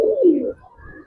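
A single Giribaz pigeon gives one short, close, throaty coo that falls in pitch, then trails off into a softer murmur within about a second.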